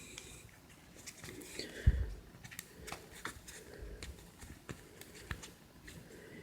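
A deck of trading cards for the Dragon Ball Super card game is shuffled quickly by hand, giving quiet, rapid papery riffles and taps over a hushed room.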